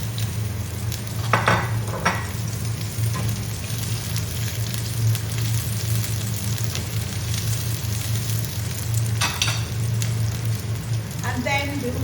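Sliced garlic and a little onion fry in a pan while ugu leaves are being cooked, giving a steady sizzle with occasional stirring scrapes, under intermittent talk nearby.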